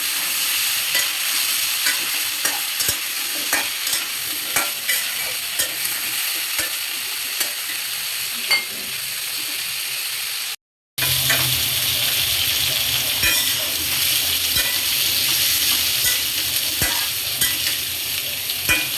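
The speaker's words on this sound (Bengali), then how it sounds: "ভালো করে নেড়ে চেড়ে দিব।" Drumstick, potato and eggplant pieces sizzle in a pan of oil with cumin and bay leaf, stirred repeatedly with scraping clatters over a steady frying hiss that cuts out briefly midway.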